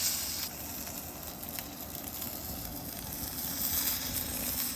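Picanha beef fat searing on a hot griddle, giving off a steady, close hiss of sizzling that holds broad and even throughout, with no talking.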